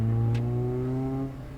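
A Mazda Miata race car at an autocross event at Pittsburgh International Raceway, its engine droning steadily and loud nearby with a smooth, sustained tone that sags slightly near the end.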